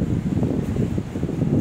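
Strong typhoon wind blowing steadily and loudly near the microphone, a continuous low roaring rush with gusty fluctuations and no other clear sounds.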